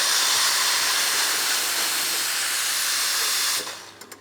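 Steam wand on a newly installed Nexus espresso machine blasts a loud, steady broadband hiss for about three and a half seconds, then cuts off abruptly, leaving a few faint clicks.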